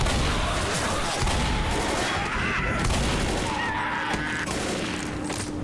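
Shotgun fire in Left 4 Dead amid a chaotic fight, booming blasts and crashes layered over dense continuous game noise, loud and close throughout.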